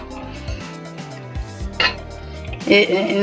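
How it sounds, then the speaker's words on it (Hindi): Several clanks and scrapes as a cooking pot or kadhai is set down and moved, with metallic rings standing out near the middle and end, close and fairly loud, while making zarda. "अब हमने खुला बर्तन लेना है, या पतीला हो या कढ़ाई हो।"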